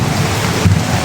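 Heavy rain pours down with a deep thunder rumble underneath, a loud, dense, close wash of noise that swells briefly midway through a short stretch, with no talking.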